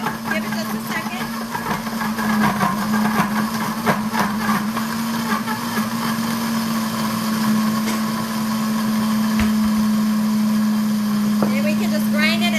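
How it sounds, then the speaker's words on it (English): A Pampered Chef Quick Cooker grinds Parmesan cheese into fine crumbs with a steady, high motor whine and a gritty rattle, running continuously at close range while someone talks over it. "we are just going to make us some finely ground Parmesan cheese"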